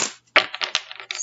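A deck of tarot cards is shuffled by hand, close up, giving a quick flurry of crisp, papery slaps and riffles with a brief pause in between.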